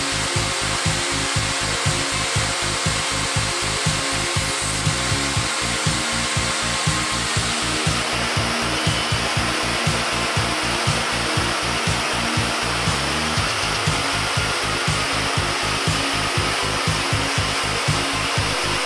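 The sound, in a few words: CNC joinery machine milling wood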